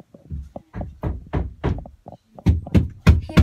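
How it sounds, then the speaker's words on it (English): Knocking on a wall from the adjoining room: a run of muffled, evenly spaced knocks, then a louder, closer burst of knocks answering back, with no voices. "He knocked. He knocked back."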